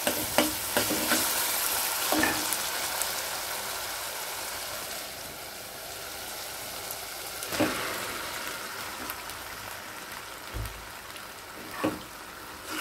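Boiled dal stirred into fried masala in a pan for tadka: a soft, steady sizzle broken by occasional louder scraping strokes of the spoon against the pan.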